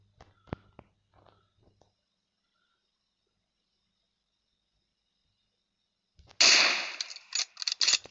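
Gunfire in the mobile game PUBG Mobile: after a few scattered faint clicks and a quiet gap, a loud rapid burst of shots cracks out, followed by several more short volleys.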